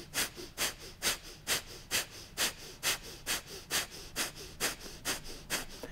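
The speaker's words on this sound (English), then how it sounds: "Lift your chest, lift your throat for Kapalabhati breathing. Take a nice deep breath in and start pumping away." Rhythmic Kapalabhati pumping breaths during a Katonah yoga practice: about thirteen sharp, forceful nasal exhalations at an even, brisk pace, close and clear with no talking.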